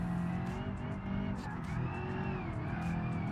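A car accelerating on nitrous in BeamNG, engine revving hard with a rising, whining tone and some tire noise, loud and continuous throughout.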